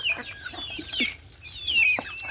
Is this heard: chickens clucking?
yes